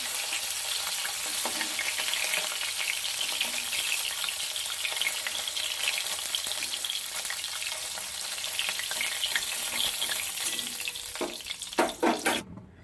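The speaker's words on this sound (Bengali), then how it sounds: "আলুগুলোকে ডোমো ডোমো করে কেটে নিয়েছি ওই মাছ ভাজার তেলে এবার একটু ভেজে নেবো" Potato chunks fry in oil left over from frying fish, a continuous close sizzle that ends in a few sharp clatters of stirring or utensil knocks, with no speech.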